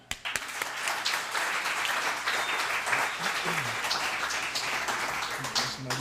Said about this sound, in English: let's bring him up here with a round of applause